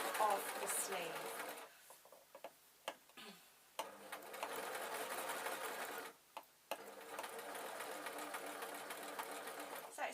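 A sewing machine stitches a simple jacket with binding tape, running in steady loud bursts that stop and restart several times, with short pauses between runs.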